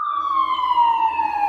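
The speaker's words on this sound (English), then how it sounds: "here comes an ambulance. Do you hear that?" An ambulance siren wails loud and clear, a steady tone that slowly falls in pitch as the vehicle passes by, under a faint low traffic rumble.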